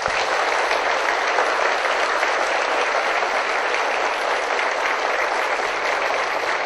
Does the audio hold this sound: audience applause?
yes